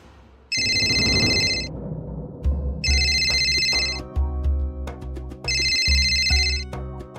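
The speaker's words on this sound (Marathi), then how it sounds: "खासदार साहेबांचा फोन येतोय." A phone rings in three repeated trilling bursts, loud and close, over a low rumbling background.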